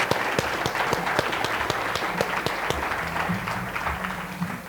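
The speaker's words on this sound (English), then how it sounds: "So give him a big round of applause" Audience applause welcoming Greg Creed, former CEO of Yum! Brands, at a university talk: dense, steady clapping from a crowd with sharp individual claps standing out, fading slightly toward the end.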